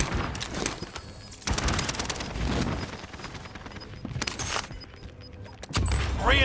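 Thompson submachine gun fire in a shooter video game, rattling out in dense rapid bursts with short pauses between, loud and close, with explosive booms mixed in.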